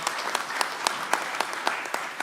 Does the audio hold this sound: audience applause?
yes